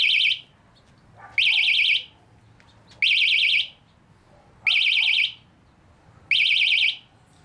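A vehicle security alarm sounds in five loud, evenly spaced bursts of shrill, warbling electronic tone, each about a second long, separated by brief quiet gaps.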